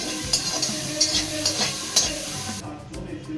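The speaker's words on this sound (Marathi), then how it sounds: "हे कसं सॉटे करून घेऊया याला पण." Carrots sautéed in butter in a pan for veg noodles, a low sizzle under a run of sharp spatula taps and scrapes about every half second, close by, with the sizzle thinning out near the end.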